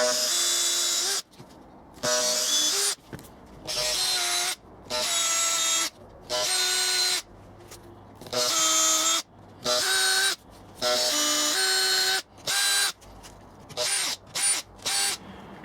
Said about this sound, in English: I've drilled various holes in the first piece of the new baseboards to attach to the cross pieces